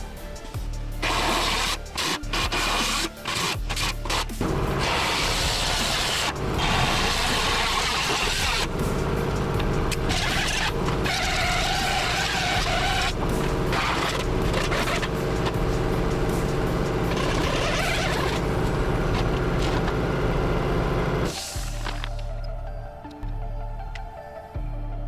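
Cutting tool slicing through the sheet metal of a 1949 Jeep Willys pickup's passenger-side bed fender, a loud, harsh, continuous grinding roar with brief stutters, running steadily for about twenty seconds before stopping.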